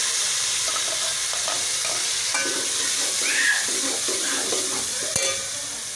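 Tomatoes fry with cumin and turmeric in a hot pan for a Pakistani-style tinday gosht, giving a constant loud sizzle with occasional stirring scrapes and soft clicks, and no voices.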